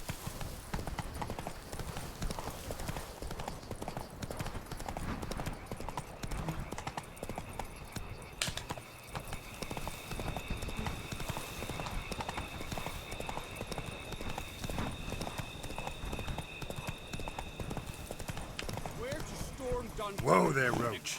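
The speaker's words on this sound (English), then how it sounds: "Whoa there, Roach." Hooves of the horse Roach clip-clop in a fast, steady galloping rhythm in the video game The Witcher 3, running under a man's chatter and game sounds for about twenty seconds before a brief louder burst at the end.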